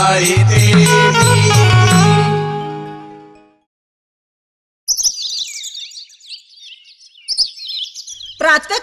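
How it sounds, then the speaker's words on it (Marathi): Birds chirp and twitter at dawn in short, bright bursts, loud and close, following a sung devotional passage with music that fades out into a brief silence. "पक्ष्यांची किलबिलाट"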